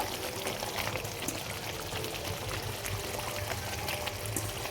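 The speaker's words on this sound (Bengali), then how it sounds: "এবার ধুয়ে রাখা কলিজা গুলো দিয়ে দিব" Washed pieces of liver tipped into a pan of spices being cooked down for a chana dal dish, giving a steady wet pouring and splashing hiss that stays fairly loud and continuous throughout, with no talking.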